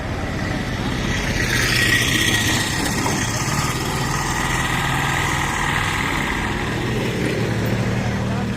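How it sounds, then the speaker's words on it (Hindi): Long, wide diesel-engined three-wheeler passenger vehicle near the Fateh Garh Sahib Gurudwara, its engine running loud and steady with a constant low rumble and rattle, close by, with faint street noise behind. "लंबे लंबे चौड़े चौड़े 3 व्हीलर बने हुए हैं जो कि डीजल इंजन पे चलते हैं ज़्यादातर"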